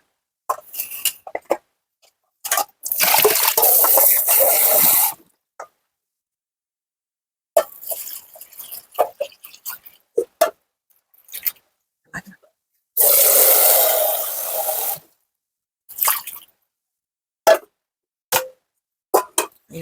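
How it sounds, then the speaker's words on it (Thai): Chinese kale is rinsed in plain water in a home kitchen: two loud, steady gushes of running water, separated by clattering, splashing and handling noises, close by. "แล้วก็ล้างน้ำเปล่าอีกสองน้ำค่ะ"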